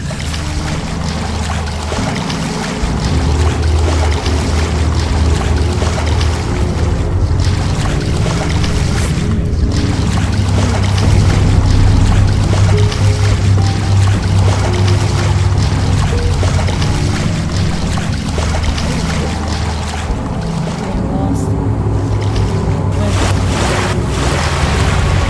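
Freezing water in the video game The Fidelio Incident, a continuous loud rushing and sloshing wash with low rumbling swells and wind-like noise, steady and close throughout without talk.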